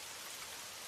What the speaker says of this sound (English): ears straining against the background hiss of rain